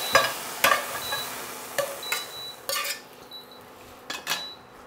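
Metal pan of braised, glossy meat pieces being moved off the heat, with several sharp clanks and scrapes of pan and utensil against the stovetop, close and distinct, a soft residual sizzle between them, no talking.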